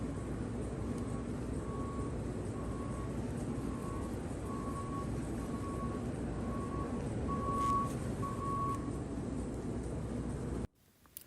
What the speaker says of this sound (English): that beeping, that's the backup alarm for the feed truck and the skid steers